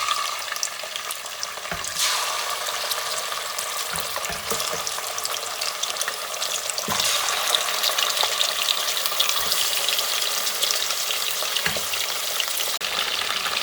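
Chicken for degi-style korma fries in a hot pot, a loud continuous sizzle with occasional stirring knocks and scrapes, close up and without talking.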